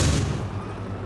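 A shoulder-fired anti-tank weapon discharges in one loud, booming blast that decays quickly into a low rumble, with no voices over it.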